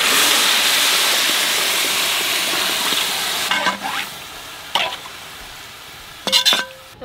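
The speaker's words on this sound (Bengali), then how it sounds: "তো চালের সঙ্গে একটু ভাজলাম ঘিটা, এবার জল দিয়ে দেবো।" Water is poured onto rice frying in ghee, making a loud, rushing hiss for a few seconds that fades, followed by a few sharp clinks of utensils against the pot.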